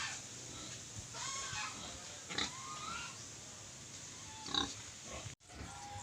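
Native pigs grunting on a farm, scattered snorts and short calls spread through the scene at moderate distance, with chickens clucking faintly and steady outdoor background noise.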